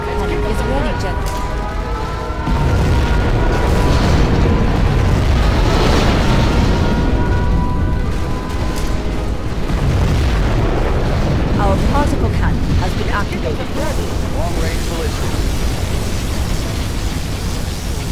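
Rumbling nuclear missile blast in the real-time strategy game Command & Conquer Generals Zero Hour, a loud continuous roar that swells and sustains for the whole stretch amid dense in-game battle noise.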